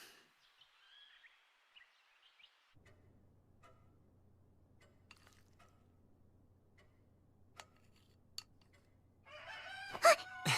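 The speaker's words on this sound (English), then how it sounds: "That's a rooster." A rooster crows in the countryside, a loud, harmonically rich call bursting in near the end after quiet ambience with a low steady hum and a few scattered ticks.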